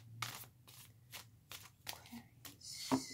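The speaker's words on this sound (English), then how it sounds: "One more shuffle here." A deck of tarot cards is shuffled close by in quiet bursts of riffling and slapping, several short flurries with a soft voice murmuring faintly underneath.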